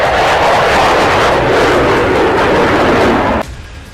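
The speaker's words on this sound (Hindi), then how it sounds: "ये जहाज अब अमेरिका में भूतिया फाइटर जेट कहा जा रहा है।" A fighter jet roars overhead, a loud, broad rushing engine noise that holds steady for several seconds and then drops sharply to a quieter tail near the end, with no talking.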